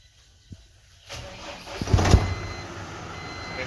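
Ashok Leyland dumper truck engine cranked by the starter and catching, a rising rumbling roar that settles into a steady idle, with a couple of faint clicks beforehand.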